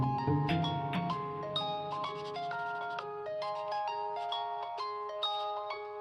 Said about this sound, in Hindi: शानजे का फोन है,